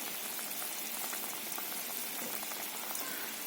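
A pot of radish and fish curry boils steadily, giving a dense, continuous bubbling and simmering hiss throughout, close by, with no talk.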